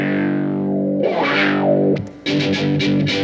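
A bowed fiddle run through a Fuzzrocious M.O.T.H. fuzz pedal, thick and buzzing, with a sustained note that swells, then a few choppy distorted strokes.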